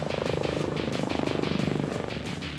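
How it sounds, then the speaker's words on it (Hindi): Attack helicopter in flight, a loud, close rotor thrum with a fast, even chopping pulse sustained throughout. "एक वर्सेटाइल अटैक हेलीकॉप्टर है"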